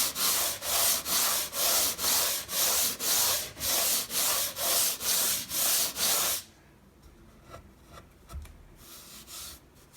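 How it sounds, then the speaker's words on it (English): Rhythmic back-and-forth sanding strokes rasp on the wooden fretboard of a 2019 Gibson Les Paul 60's Standard guitar during a re-fret, about two per second, then stop, leaving light handling noises. "a light sanding throughout"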